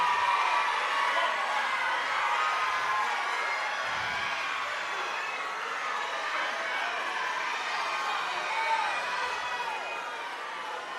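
Fight spectators roar in a dense, continuous wash of crowd cheering and shouting that holds steady at moderate loudness throughout, with no single voice standing out.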